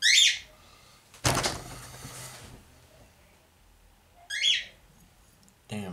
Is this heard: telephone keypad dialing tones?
no